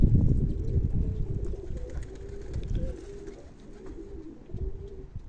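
German pigeons on a rooftop coo in low, throaty repeated calls, close and fairly loud, with soft rustling that fades toward the end and no voices.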